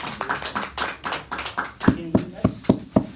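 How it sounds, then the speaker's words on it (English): Several people in a small room clap for a graduate who has finished an entertainment design program, a loose patter of hand claps that settles into about six sharp, evenly spaced claps, with people talking over the start. "So we should all clap for Rudy, huh, Mr. Zaki?"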